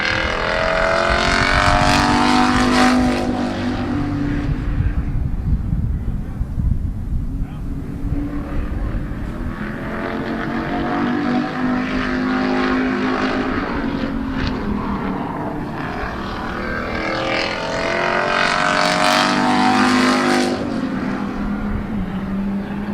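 A Pure Stock Division race car takes a qualifying lap at Midvale Speedway, its engine roaring loudly as it sweeps past, fading on the far side of the track, then swelling again on the return.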